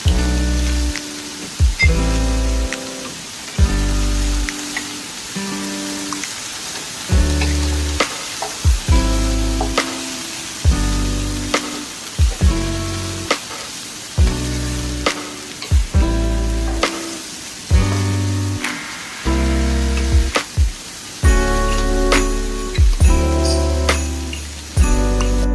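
Butter and vegetables sizzle in a hot frying pan, a steady crackling hiss broken by repeated tonal clinks and scrapes of stirring, close and loud with no talking.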